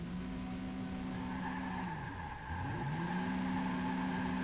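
A car engine in the Watch Dogs video game drones steadily at a low pitch, dipping briefly as the revs fall and then climbing again, with no talking over it.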